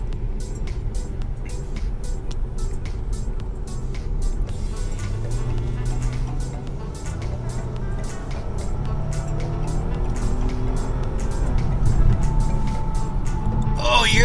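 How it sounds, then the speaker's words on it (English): A supercharged 2012 Audi A7 accelerates on a highway, its engine tone rising steadily through the gears over constant loud road and wind noise. "Oh, you hear that supercharger?"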